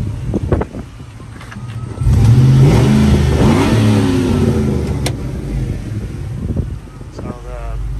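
A 2007 Chevrolet Tahoe LT 4X4 with a Rough Country lift runs its engine, rising into a loud, sustained rev before easing back to a steady idle rumble, with brief handling noises around it.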